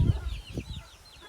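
A native hen on a rooftop with her nine young chicks gives a few soft, brief clucks, fairly faint and close, with quiet background.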